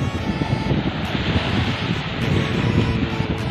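Steady, broad rush of sea breeze at a beach buffeting the microphone, a continuous low roar with faint surf-like texture and no voices.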